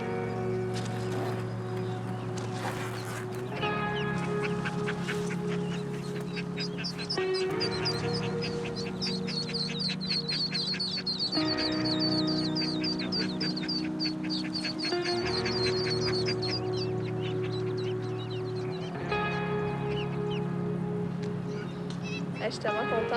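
Ducks from a duck family quacking repeatedly in a dense, continuous chorus outdoors, fairly loud and close, with steady background noise throughout.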